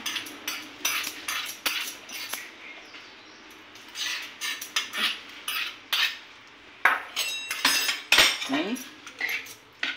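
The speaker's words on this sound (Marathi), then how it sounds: "आपण आता ही कढई पण चांगली पुसून घेऊया" An iron kadai is wiped out after tempering a sprouted horse gram curry: close, uneven bursts of cloth rubbing and scraping against metal with occasional light clinks, coming in short irregular strokes.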